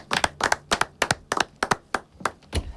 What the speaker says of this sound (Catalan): Vull un aplaudiment!